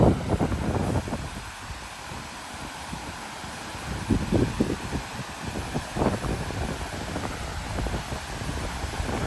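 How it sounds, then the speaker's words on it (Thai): Strong wind gusting outdoors near cold water, a steady roaring rush buffeting the microphone with rumbling swells and flutters throughout, loud and continuous with no voices. "พี่ได้ยินไหมเสียงลมพัดแรงมาก"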